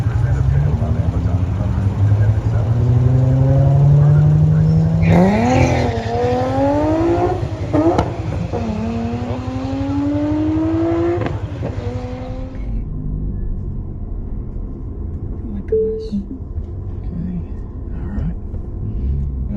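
A white Tesla Plaid launches hard down a drag strip, its loud electric whine rising steeply in pitch over several seconds, backed by constant rumbling wind and road noise before fading out.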